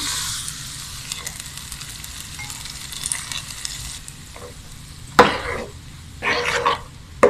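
Chana dal payasam being stirred with ghee-fried coconut, giving a steady soft sizzle and scraping with a few louder clatters of the spoon against the pot near the end.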